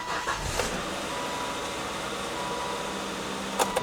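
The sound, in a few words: Volvo car engine started and idling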